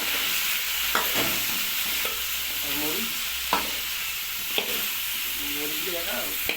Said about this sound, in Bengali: আমাদের এখন লৌকি আর টমেটো দিয়ে হয়েছে, হালকা নেড়ে নিতে হবে।